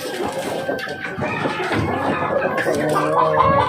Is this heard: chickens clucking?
yes